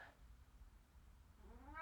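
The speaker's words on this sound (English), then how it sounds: "you may be hearing my cat in the background" A house cat meows faintly in the background of a quiet indoor room, with one short cry near the start and another near the end over a low hum.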